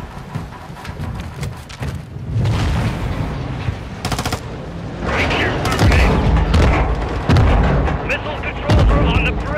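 A gunfight rages in Call of Duty Modern Warfare 2, with dense, continuous rifle fire and heavy booming blasts from close range, as voices call out over the steady barrage.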